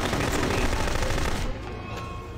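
Automatic gunfire in the spy shooter game No One Lives Forever crackles in a rapid, loud burst that cuts off sharply halfway, leaving a quieter background rumble.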